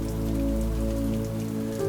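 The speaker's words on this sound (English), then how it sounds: "Rain slides down the glass in slow, wandering paths" Steady rain patters against a window glass, a dense continuous wash of drops with soft tonal music humming underneath throughout.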